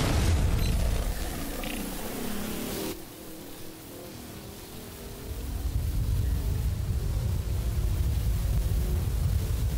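Asteroid rock bursting apart in Star Citizen after an overheating mining laser: a dense rumbling blast that cuts off abruptly, a brief quieter lull, then a low rolling roar swelling back up.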